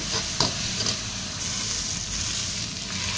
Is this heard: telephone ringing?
no